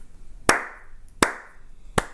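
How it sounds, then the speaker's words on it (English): Three slow, evenly spaced single hand claps ring out sharply in a quiet room, each followed by a short fading echo. "That's a slow clap for Bill Maher."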